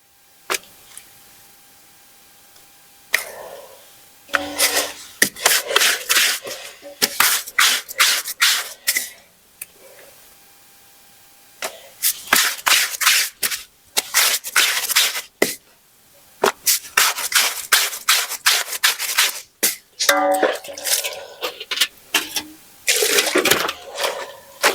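Clothes are scrubbed and washed by hand with water, heard as close, repeated bursts of rubbing and sloshing separated by short pauses, with no talking.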